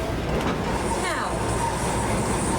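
A museum train car runs loudly, giving a steady broadband rumble and rattle close by with a brief squeal, continuous and unbroken for the whole stretch.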